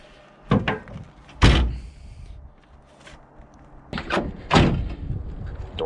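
Work on a 1978 Pontiac Trans Am's car door, a series of sharp metallic slams and clunks in irregular bursts, close and loud, with quieter rattling between them.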